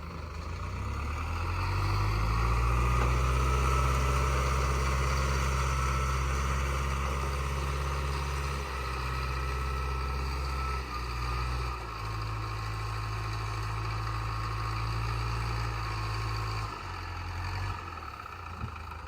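An old Caterpillar V8 diesel dump truck engine runs with a dirty fuel filter, a deep steady rumble with low droning harmonics that sag and recover in load a few times over the clip, fairly close, with no talk.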